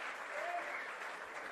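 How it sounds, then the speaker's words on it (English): A football crowd at a 2024 SANFL Round 4 match between West Adelaide and South Adelaide applauds a player coming to the bench, a soft, even patter of distant clapping heard briefly while a commentator's voice runs under it. "Kobe Ryan receives a round of applause coming to the bench"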